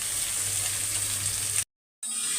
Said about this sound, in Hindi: तो प्याज को पिंक कर लाइट गोल्डन होने तक इसे अच्छे से हम फ्राई कर लेते हैं इसी तेल में